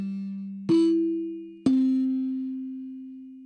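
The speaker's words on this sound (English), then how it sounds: "I used these NBC Carol chimes, so I wanted to show you those" Three soft bell-like NBC chime tones ring out one after another, each struck cleanly and left to decay slowly in an otherwise quiet space.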